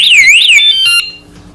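ANTUSI A8 bike tail light sounding its anti-theft alarm: a loud, piercing electronic siren that warbles up and down, then switches to steady shrill tones before cutting off, close to the mic.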